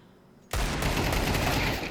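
A sudden, loud burst of rapid gunfire erupts after a moment of near silence during a professional Counter-Strike match between NAVI and FaZe on the Anubis map, then stays dense and sustained.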